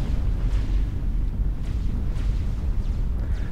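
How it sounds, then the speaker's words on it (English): A huge explosion in the strategy game Forged Alliance Forever booms with a dense, continuous low-frequency roar and crackling blasts throughout. "Not one, not two, but three comms taken out in a single explosion."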